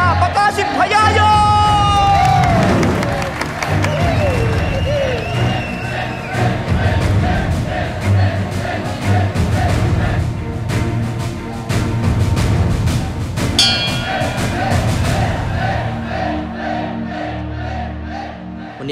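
A boxing crowd roars, whoops and cheers as a fighter enters the ring, loud and dense throughout, with music and a ringside announcer's voice running through the noise.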